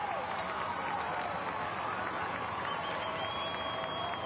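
A home crowd roars and cheers at a Bellevue West vs. Omaha Central high school football game in Omaha, with dense, steady applause and shouting from a large stadium crowd throughout.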